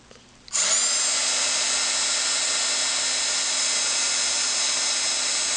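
A heat embossing tool switches on after a brief quiet moment and then runs as a steady, loud, close fan-and-heater whir that holds constant to the end, with no talking.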